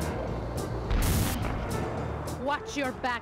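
A fireworks rocket bursts in the PS3 game Sly Raccoon, a broad crackling boom with noisy rumbling, then game voices speaking toward the end.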